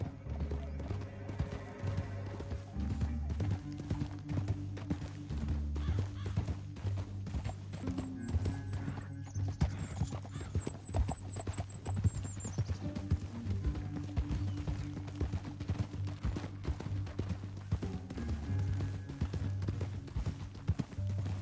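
Steady clip-clop of horse hooves trotting along with a continuous musical score and ambient game sounds over it, in Red Dead Redemption.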